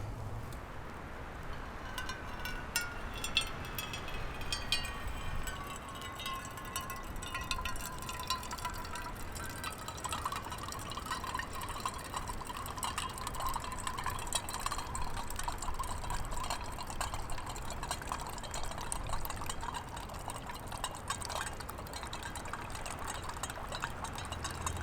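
Unfiltered cowboy coffee is poured at a bushcraft camp, a soft continuous liquid trickle with a rising fill tone, faint and close, with no voices.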